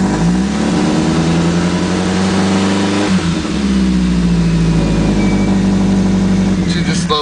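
A 1980 Triumph Spitfire 1500 engine holding a high, steady idle just after a cold start on a freezing day, close and loud throughout, with a slight dip and recovery midway and voices talking over it.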